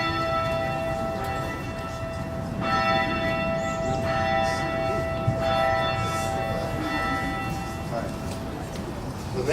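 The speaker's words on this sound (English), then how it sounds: "We'll start with our donor, Dr. Gordon Stuart Peak, ringing the 5th bell." The fifth memorial church bell at the University of Washington rings in repeated, resonant strikes whose long tones overlap and hum on. A steady background murmur runs beneath the bell throughout.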